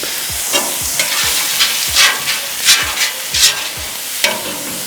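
Oil sizzling on a hot mesquite grill before taco shells go down, a steady hiss broken by repeated soft scraping strokes and occasional brighter crackles.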